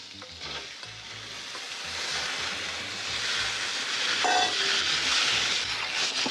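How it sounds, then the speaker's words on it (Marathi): Prawns sauté in a little ghee in a kadai while being stirred, making a loud, close, continuous sizzling hiss that swells toward the end, with scraping stir sounds and no talking. "कढईत आपण थोडंसं तूप घेतलं आहे आणि या तुपात आता आपण ही फक्त कोलंबी परतून"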